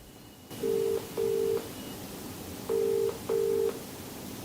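A telephone dialing a call, with four steady touch-tone beeps in two pairs separated by a short pause, clear and close over a quiet background hum.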